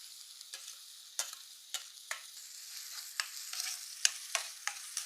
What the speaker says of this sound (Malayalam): തക്കാളിയും കറിവേപ്പിലയും കൂടി ഇട്ട് കൊടുക്കാവേ